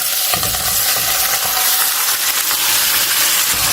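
Marinated chicken hits golden-brown fried onions in a hot pan, giving a loud, steady sizzle and frying hiss with a few faint stirring clinks, no voices.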